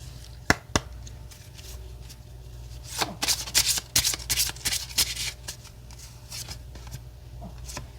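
Affirmation postcards being shuffled and a single card drawn, first a couple of sharp taps, then a quick flurry of riffling card rustles in the middle, fading to quiet handling.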